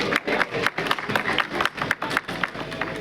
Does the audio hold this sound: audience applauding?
yes